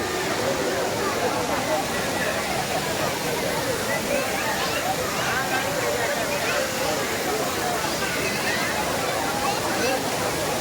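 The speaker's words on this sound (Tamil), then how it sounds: "குற்றாலம் ஐந்தருவி உங்களை அன்புடன் வரவேற்கிறது" The Five Falls waterfall at Courtallam roars in a dense, steady rush of crashing water, loud and close, with a faint babble of crowd voices mixed under it.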